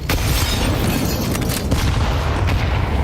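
A grenade blast in Counter-Strike 2 during a tournament match hits as a dense, loud boom with crackling debris, filling the whole short moment without any talking.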